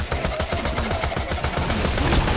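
Gunfire in the video game Borderlands 2: rapid, continuous bursts of shots, rattling in a fast repeated rhythm at moderate loudness for the whole stretch.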